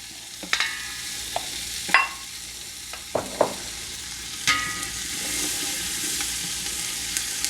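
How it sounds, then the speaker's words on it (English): Onions saute in a pan with a soft, continuous sizzle broken by several sharp clicks and scrapes of a utensil stirring, close by and without talk. "we're just going to saute the onions"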